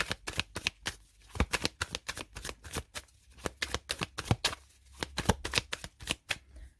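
Tarot cards being shuffled by hand, a rapid series of crisp riffling flicks and soft slaps in an irregular rhythm, close and fairly quiet with no voices.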